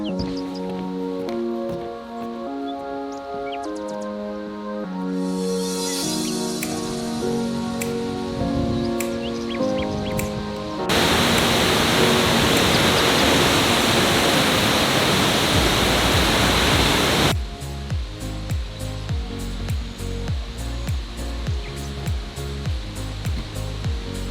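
Steady rushing water of High Falls, Minnesota's highest waterfall, roars in a broad hiss for several seconds, with music playing before and after it.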